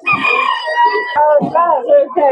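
At the Sabunchu poultry market, a rooster gives one loud, close crow lasting about two seconds, rising and then breaking into a wavering, throaty finish.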